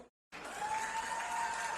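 A crowd claps steadily at a WWE wrestling event, a dense, distant wash of applause rising after a brief moment of silence and holding evenly.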